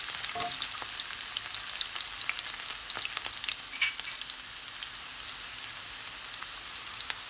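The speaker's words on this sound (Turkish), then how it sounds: "soğanlarımızı güzelce kavurmamız gerekiyor" Onions fry steadily in a pan for menemen, a broadband sizzle that holds even throughout with a few small crackles and pops and no talk.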